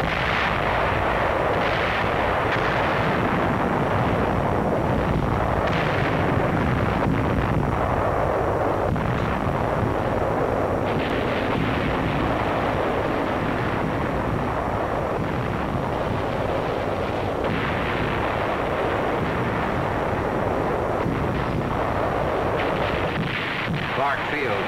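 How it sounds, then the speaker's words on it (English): Heavy artillery shelling of the Clark Field area on Luzon in 1945, a dense continuous roar of booming shell bursts and rumbling blasts, loud throughout, with a narrator's voice running over it. "troops of the 14th Corps bring up artillery to attack the Clark Field area, which is subjected to heavy shelling"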